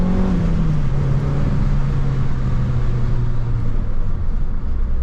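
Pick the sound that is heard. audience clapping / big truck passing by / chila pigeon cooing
big truck passing by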